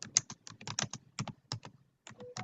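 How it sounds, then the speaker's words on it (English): Someone types on a computer keyboard, with quick irregular bursts of clicking keys and short pauses, close and clear with no talking. "I hear someone typing."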